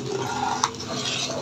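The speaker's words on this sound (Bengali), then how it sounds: "এটা অনবরত নেড়ে যেতে হবে" Homemade tomato sauce is stirred in a pan, giving soft, close scraping and sloshing with one brief clink of a utensil against the pan, and no one speaking.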